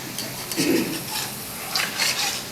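Besan frying in ghee for laddu gives a soft crackling sizzle with stirring and scraping in the pan, rising and falling in short bursts, close and moderately loud.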